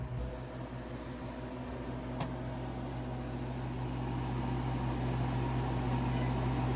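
A freeze dryer running steadily in a room, giving a continuous mechanical hum and hiss with a faint pulsing at the start and a brief click partway through, with no voices.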